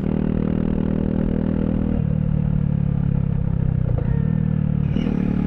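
A Honda Rebel 250 motorcycle with an E-clutch runs steadily at road speed, its engine note dropping and rising through several gear changes, close and continuous with no talk.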